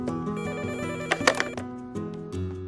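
A telephone rings in a Turkish TV drama scene, a short bright trill close by over music, rising briefly and then fading back under the score.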